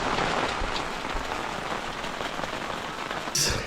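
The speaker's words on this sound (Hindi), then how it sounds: "और गाइस बाहर बारिश दोबारा चालू हो गई है" Steady rain falling outside a newly built house in the hills, a dense, even patter throughout with a brief brighter clatter near the end.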